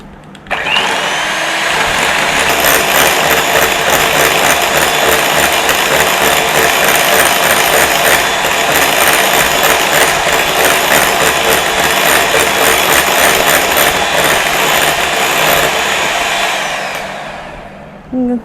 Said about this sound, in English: I'm going to start beating the whipping cream